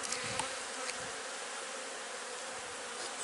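Honeybees buzzing around an open wooden hive at an autumn apiary, a dense continuous drone up close, fairly faint, with no talking.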